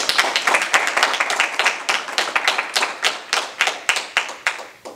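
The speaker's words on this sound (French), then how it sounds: "On peut l'applaudir" A group applauds a taekwondo student after a red-black belt grading, with steady close hand claps that come in quick irregular bursts across the whole stretch and grow more spaced out toward the end.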